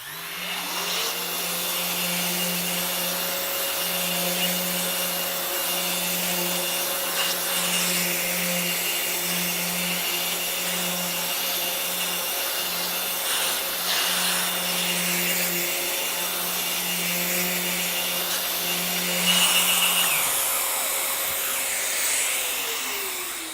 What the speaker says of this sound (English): So we can now switch the sander on, and then we can start to take this surface down